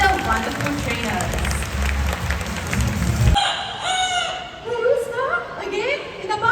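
Amazon parrot at a Singapore bird park show mimicking a rooster's crow: a loud burst of broadband crowd noise, then a run of warbling, rising-and-falling crow-like calls close by.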